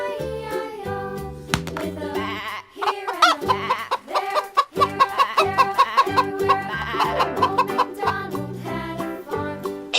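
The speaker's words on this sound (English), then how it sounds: "Chicken." A farmyard chicken clucks repeatedly over a bright children's song, with the bird's calls mixed into steady background music throughout.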